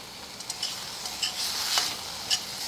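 Spices fry and get stirred in a pan for a Bengali omelette curry, giving a bright, close sizzle with intermittent scraping strokes and little spits.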